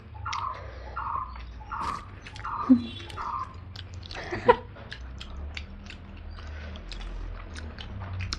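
Close, wet chewing of spicy mutton curry with rice goes on steadily, with soft crunchy bites and occasional louder chomps, while a bird chirps repeatedly in the background.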